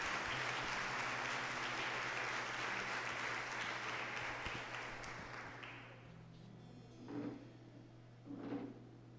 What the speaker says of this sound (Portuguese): Vamos aplaudir a santa palavra de nosso Senhor Jesus Cristo.